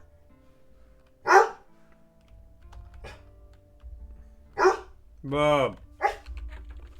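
A dog barks indoors in an office, with several short, loud barks separated by pauses, alongside a low background hum and nearby talking.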